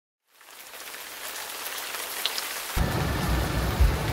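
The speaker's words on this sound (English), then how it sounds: "It is raining, guys." Steady rain in Orlando, Florida, rising from quiet to a dense hiss of drops on surfaces that grows heavier and closer partway through, with no voices.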